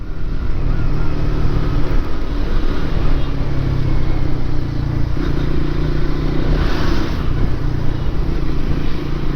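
A Suzuki GSX-R150 motorcycle cruises on a highway at moderate speed, its engine drone steady and loud under heavy, constant wind rush.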